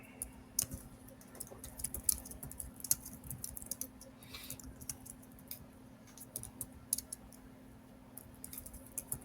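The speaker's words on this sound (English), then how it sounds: "I hear typing." Quiet, irregular clicking of computer keys in short bursts, faint and close by over a low steady hum.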